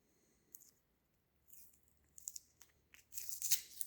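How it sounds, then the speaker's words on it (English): Tape peeled off a freshly painted diesel injector, a few soft tearing and crinkling bursts building to a loud, close rip at the end, with quiet pauses between. "we'll go ahead and pull the bottom tape off"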